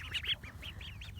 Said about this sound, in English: My ducklings love these shoes.